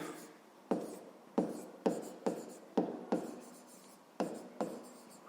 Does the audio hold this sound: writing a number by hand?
yes